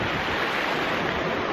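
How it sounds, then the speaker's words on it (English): Steady broadband rush of river water flowing beneath a bridge in a snowy winter setting, continuous and fairly loud with a windy, surf-like texture and no voices. "We had to go over this bridge, over this river."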